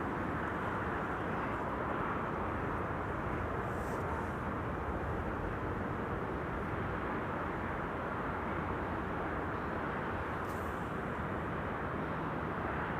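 A Cessna Citation CJ3 Plus business jet lands at Amsterdam Schiphol, heard as a steady, broad rush of jet noise that holds at an even level throughout, with no voices.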